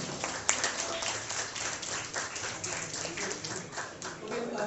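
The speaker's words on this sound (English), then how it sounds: "Please give them a big round of applause." Modest applause from a school audience, a room of scattered clapping held at a fairly even level for a few seconds.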